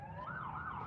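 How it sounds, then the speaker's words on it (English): A distant emergency vehicle siren wails in a smooth rising and falling sweep, faint and continuous, heard alone without talk. "and then I hear the sirens"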